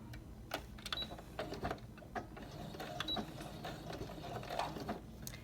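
A sewing machine stitches across fabric for a fish-extender treat hanger, quietly whirring in short uneven runs with faint mechanical clicks and pauses between bursts.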